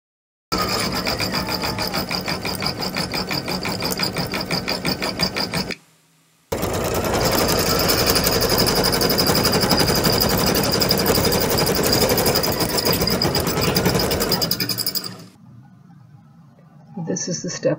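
A Brother embroidery machine runs a patch design, its needle hammering in a fast, steady mechanical chatter for several seconds, pausing briefly, then resuming before stopping near the end.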